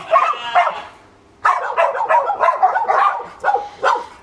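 Dogs barking at an off-grid outdoor kitchen in Australia: a couple of barks, a brief lull, then a long, excited run of rapid overlapping barks and yips, loud and close.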